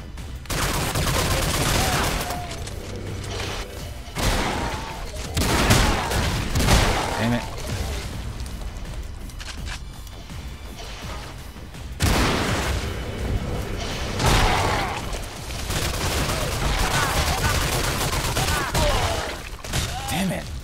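Gunfire and explosions from the video game Crash Commando in a single-player level, dense bursts of shots and booms filling most of the stretch with brief lulls, and a player's voice speaking over it at times.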